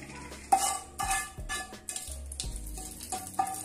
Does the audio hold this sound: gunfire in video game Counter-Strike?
no